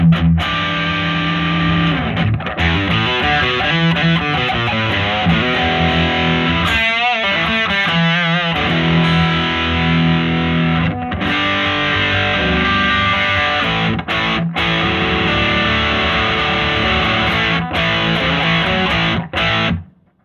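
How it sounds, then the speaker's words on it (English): Heavily distorted electric guitar through a Blackstar HT Distortion pedal run at 22 volts plays chords and riffs, thick and saturated, continuous for the whole stretch before cutting off. "it's answered the main question for me regarding this Blackstar pedal at 22 volts"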